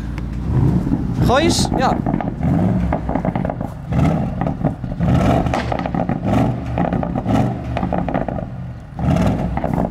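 A V8 car engine rumbles and revs loudly close by, its low drone rising and falling, while people talk and exclaim over it.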